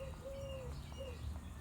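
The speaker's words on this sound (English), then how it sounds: "I'm wondering where that little bird came from" A small bird calls with two drawn-out whistled notes, a longer one then a shorter one, heard faintly over a low steady background rumble.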